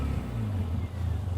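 A Mercedes A45 AMG engine growls at close range in a short, steady burst with a slight rising rev, no voices over it.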